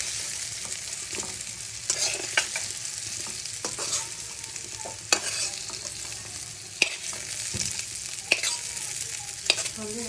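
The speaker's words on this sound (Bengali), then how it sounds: "ভাজা হয়ে গিয়েছে, এখন আলুটাকে অল্প উঠাবো।" Potatoes frying in hot oil give off a loud, steady sizzle, broken by the clatter of a spatula stirring against the pan at irregular moments, with no talking.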